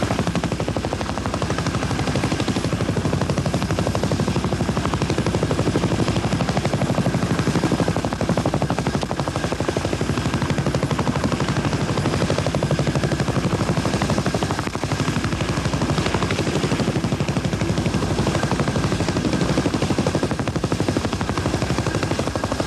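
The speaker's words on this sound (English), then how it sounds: "The Chinook lifts conveyor belts from a tugboat." A Chinook helicopter hovers while lifting conveyor belts from a tugboat, its loud, continuous rotor roar and rapid blade thudding filling the whole stretch at close range without letup.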